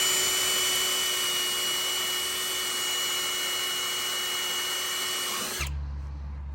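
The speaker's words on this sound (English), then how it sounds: "take a wire wheel, clean up all the surface rust that you see on your frame" A power-driven wire wheel scrubs surface rust off a Jeep frame, giving a loud, close, continuous high-pitched whine and scraping roar that stops abruptly near the end, leaving a low hum.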